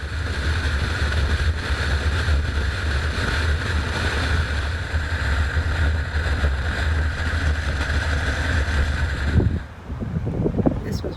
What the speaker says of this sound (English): One windy ride coming off the Outer Banks